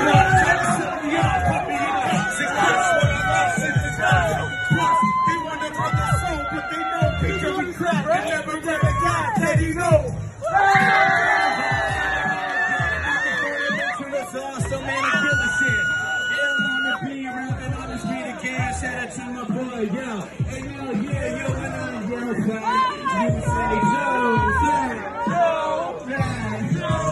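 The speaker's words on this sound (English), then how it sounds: "And the crowd goes crazy." A street crowd of about 30 to 40 people reacting wildly to a freestyle rap, with loud continuous cheering, yelling and babble over music, close and dense throughout.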